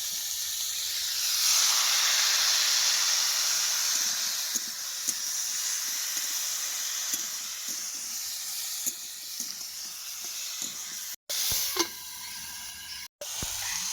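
Water poured into a hot cooking pot with chili powder, a loud rushing hiss of steam that slowly fades into a softer simmering sizzle, close up, with a few brief clatters near the end.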